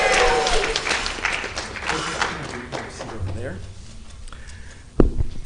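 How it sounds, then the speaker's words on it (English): A congregation at a Purim service applauds after a Megillah reading, a warm burst of clapping that fades over a few seconds, with voices and a thump near the end. "Round of applause for Iris for excellent Megillah reading."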